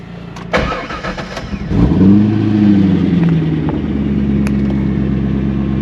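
A Chevrolet C5 Corvette V8 cranks and catches with a loud bark, then settles into a deep, rumbling idle that swells slightly as it starts to pull away. The car is close and dominates the sound.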